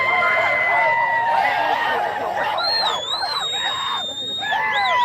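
An ambulance siren wails through a large, noisy crowd at a Maratha rally in Talegaon Dabhade, its rising and falling tone riding above steady shouting and cheering close by.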